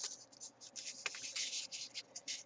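A sheet of paper being folded diagonally into a snowflake, giving close, quiet papery crinkles and scratchy creasing strokes in short uneven bursts, alone without talk.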